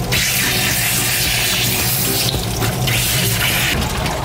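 Running water pours steadily as conditioner is rinsed from a pet's coat during a bath, a loud continuous splashing stream that keeps going throughout with small shifts in flow.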